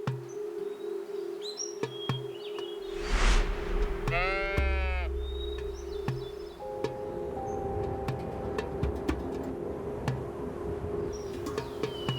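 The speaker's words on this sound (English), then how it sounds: "the Bighorn sheep boasts an array of adaptations that see it prosper where few others dare to tread" A bighorn sheep in rugged mountain country gives a single short, quavering bleat over a steady hum, with scattered faint bird chirps and light rustling around it.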